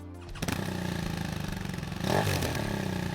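A Triumph Trophy 1200cc inline three-cylinder motorcycle engine catches after a brief quiet moment, then runs smooth and close with a steady drone, swelling in revs near the end.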